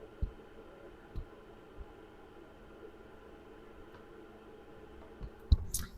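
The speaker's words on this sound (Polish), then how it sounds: "I tak teraz właśnie chodzi ten wentylatorek" The small cooling fan of a Lvyuan 2500W power inverter in a camper gives off a low, steady hum, with a few faint clicks and knocks on top.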